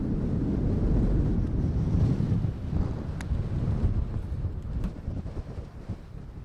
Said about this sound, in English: even this microphone is struggling with the wind here, and my hat keeps wanting to fly off